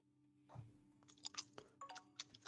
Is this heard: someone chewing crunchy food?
yes